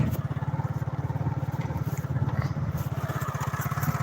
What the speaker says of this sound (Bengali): চারজন একটা বাইকে